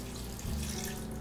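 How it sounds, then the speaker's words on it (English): Half a cup of water pours into a pot of chili with diced tomatoes and tomato sauce, a brief, close, steady splashing stream with no talk over it. "Half a cup of water."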